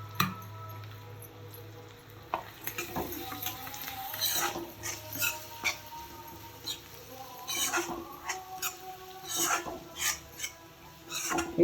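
Spice masala of chilli, garam masala, coriander and cumin powder is stirred with onion, ginger and coriander leaves in a pan for a dry clam dish, making irregular soft scraping and tapping strokes under a low steady hum.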